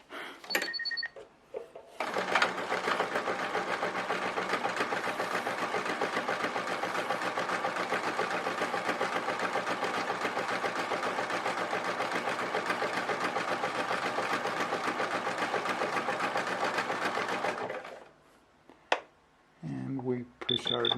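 A sewing machine running steadily for about fifteen seconds while sewing a true satin stitch, a dense continuous mechanical whir, with brief pauses and handling noise before and after.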